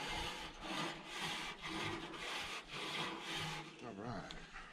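Scraping and rubbing on the top section of a Weber Smokey Mountain smoker as it is cleaned off, with repeated back-and-forth strokes that are fairly close and steady.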